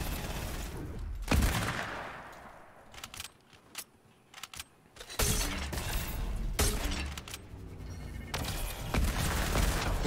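Gunfire in the Fortnite battle royale game, Season 3, with flare gun play: several sharp broadband cracks and bursts rattle through the mix, a quieter gap in the middle, then more shots in dense, loud clusters.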